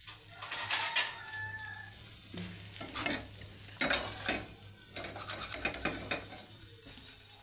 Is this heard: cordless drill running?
no